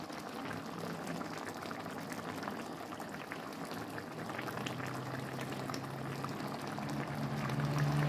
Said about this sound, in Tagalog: nilagay ko na yung isda at hayaan natin maluto